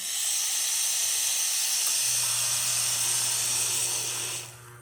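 A serviced Lelit espresso machine's steam wand hisses loud and steady at close range, with a low motor hum joining partway, then the hiss cuts off abruptly at the end.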